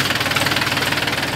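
A 2016 Mahindra 265 tractor in good condition idles loud and close, its engine giving a steady, fast, rhythmic knocking chug with no other sounds.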